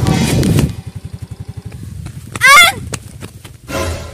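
A motorcycle putters close by with a rapid regular engine pulse, then passes and fades, with a short honk-like burst midway and a loud noise at the start and end.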